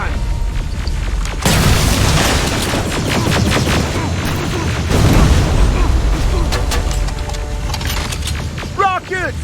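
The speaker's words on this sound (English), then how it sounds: "Rockets!" Rocket explosions in Terminator Resistance: booming blasts and rumbling detonations stack up with crackling gunfire, staying loud and close throughout, as voices shout over the fight.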